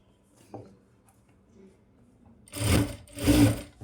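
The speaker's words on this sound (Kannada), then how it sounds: "ಅದಕ್ಕೆ ನೋಡಿಕೊಂಡು ಕ್ಲೀನಾಗಿ ನೀವು ಸ್ಟಿಚ್ ಮಾಡಿಕೊಳ್ಳಿ" Sewing machine stitching a fall onto a saree at home, two loud bursts of machine running near the end after a quiet start with faint handling noises.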